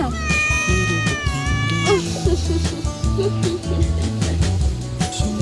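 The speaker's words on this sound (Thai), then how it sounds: "โอ้โหแมวตาอ้อนวอนออดอ้อนน่า รัก" A cat on a farm gives a string of loud, close meows with rising and falling pitch, then the meowing gives way to steady background sound.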